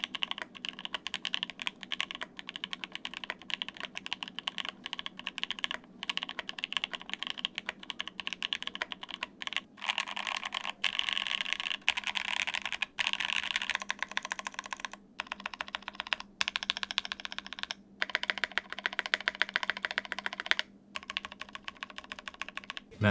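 Steady, rapid typing on a Brutal V2 mechanical keyboard fitted with plate foam, a full, slightly hollow clack, continuous for the whole stretch with brief pauses, close and fairly loud.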